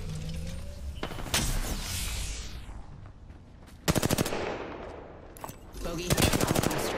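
Automatic weapon fire in the battle royale shooter Apex Legends comes in sharp, rapid bursts, loud and close. Short volleys are separated by quieter stretches with mechanical game sounds and a sweeping whoosh between them.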